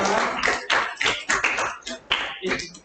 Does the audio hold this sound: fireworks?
no